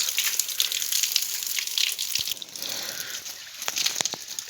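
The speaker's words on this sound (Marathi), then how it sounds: "हे बघा अशा प्रकारे पाणी मारतायत वरती" Water sprays from a hose onto the walls of a house under construction in Konkan, a loud hissing gush that wavers as the stream shifts, with a few brief knocks and no talking.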